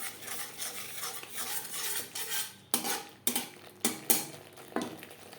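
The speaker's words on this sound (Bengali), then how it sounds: "মশলার সাথে নারকেল বেশ ভালো করে কষিয়ে নেওয়া হয়ে গেছে।" Spices and grated coconut stir-fried in oil in a pan for a vegetarian green papaya curry, with continuous scraping and stirring and several sharp metallic clinks of the spoon against the pan toward the end.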